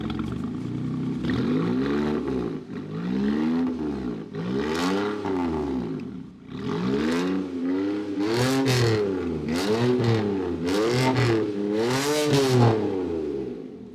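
A sports car engine revs hard again and again through a loud custom handmade exhaust, each throttle blip rising and falling in a deep, rasping roar.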